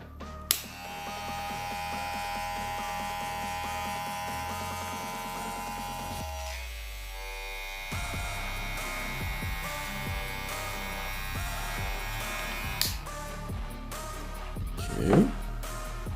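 A Kemei KM 1895 hair clipper running with its stock blade gives a steady close electric buzz and whine that drops briefly and then resumes, ending with some handling clicks.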